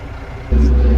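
A Kioti RX 7320 tractor engine running at about 900 RPM, starting quiet and then swelling halfway through into a loud, steady low drone, close by.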